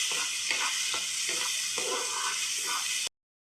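Stuffed brinjal curry cooking in oil with a steady bright hiss and sizzle, broken by soft repeated bubbling pops, continuous and close until it stops abruptly near the end.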